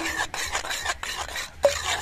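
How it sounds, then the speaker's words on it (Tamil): Beaten eggs are whisked in a bowl, a close, rhythmic run of quick swishing strokes with short pauses and a small clink of utensil against the bowl. "முட்டையை உடச்சாச்சு, நல்லா மிக்ஸ் பண்ணி எடுத்துக்கலாம்."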